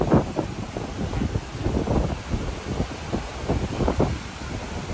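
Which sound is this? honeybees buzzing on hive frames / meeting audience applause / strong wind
strong wind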